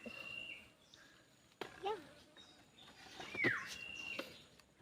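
A bird calls near a rocky cave entrance in a boulder field, giving a few sharp, rising whistled chirps scattered over a few seconds, fairly close and clear against a quiet background.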